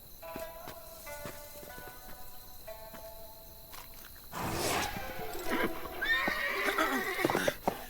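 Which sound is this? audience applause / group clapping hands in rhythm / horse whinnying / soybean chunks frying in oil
horse whinnying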